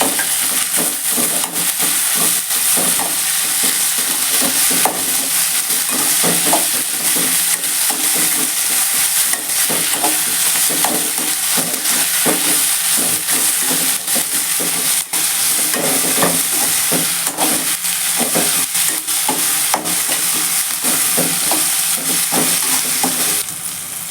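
Mint and curry leaves sizzle in hot oil in a pan while a spoon stirs them, giving a steady crackling hiss with repeated scraping strokes throughout, close and continuous.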